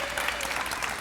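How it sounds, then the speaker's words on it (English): A round of applause at a graduation ceremony, a brief burst of dense clapping from a gathered crowd, loud and even. "One more round of applause."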